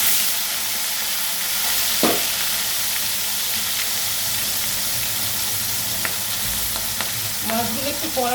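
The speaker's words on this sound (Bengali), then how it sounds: "মাছগুলো একটু কড়া করে ভাজবে, পোস্তটা কড়া করে ভাজলে খেতে ভালো লাগে।" Katla fish frying in hot oil for a poppy-seed curry, a loud, dense, continuous sizzle heard up close, with a few faint utensil clinks and no speech.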